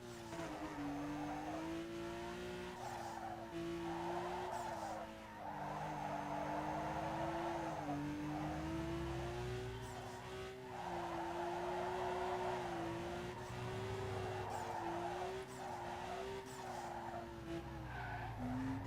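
In Need for Speed Underground 2, a car drifting downhill keeps its tires screeching almost nonstop, a loud wavering squeal riding over the engine's drone, briefly easing and returning, with nobody talking.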